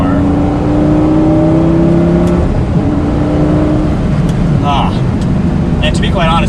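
A Lamborghini Gallardo engine rises in pitch as it revs and accelerates while driving, a loud steady drone close up with a few brief higher whines and clicks near the end.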